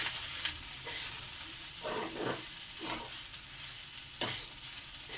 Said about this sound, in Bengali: ভাতগুলো দিয়ে দেওয়া হলো। ভালো করে আমি ভাজবো।